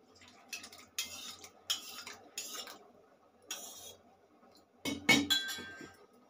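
Spoon clinking against a small glass bowl while yogurt raita with chopped coriander, onion pieces and green chilli is stirred, several bright clinks and scraping bursts in separate clusters, close and fairly quiet with no talk.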